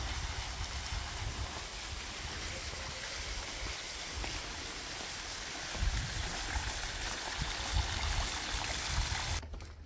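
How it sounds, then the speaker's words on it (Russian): Steady trickling water from small cascades along a tree-lined avenue by the sea in Israel, a continuous outdoor babble with a faint rumble underneath. "Обожаю эту аллею с водопадиками"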